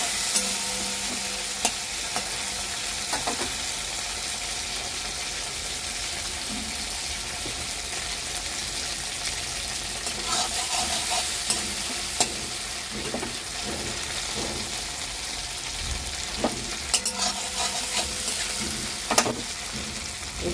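Red chili paste sizzling steadily in hot oil in a pan while a utensil stirs it, with occasional scrapes and clinks over the continuous frying hiss.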